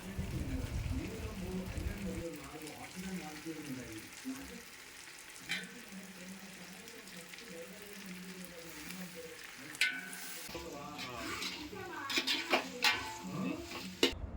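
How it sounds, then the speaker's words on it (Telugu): Washed chicken frying in a pan for chicken dum biryani, a soft hiss running beneath a speaking voice, followed by a few louder clatters and scrapes near the end. "ఆల్రెడీ కడిగి పెట్టుకున్న కేజీ చికెన్ని ఇందులో వేసి 5 మినిట్స్ వేయించుకోవాలి"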